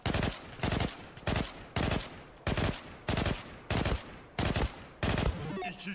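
Gunfire in the Zula Battle Royale shooter aimed at a bot: about ten loud, close bursts of automatic fire, each roughly a third of a second long, repeating in a steady rhythm with short gaps between them.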